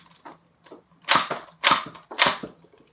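A Nerf Accustrike Quadrant blaster slam-fires with three sharp, snappy plastic pops about half a second apart, each followed by faint mechanical clicks, close and alone.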